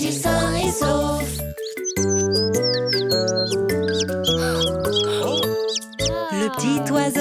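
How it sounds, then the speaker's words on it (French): Cartoon little bird chirps in quick high tweets over a bright, bouncy children's song melody with jingling accents, in an animated nursery-rhyme setting. "Cui, cui, il appela toute sa famille."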